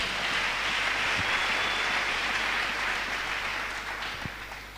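A church congregation applauds in a dense, steady wash of clapping that holds loud throughout and fades slightly toward the end, with no talking over it.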